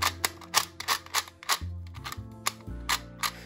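A Qiyi Clock M clock-style twisty puzzle being scrambled by hand, giving rapid plastic clicks and ratcheting snaps with low mechanical rattles, close and fairly loud.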